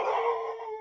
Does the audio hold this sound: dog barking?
yes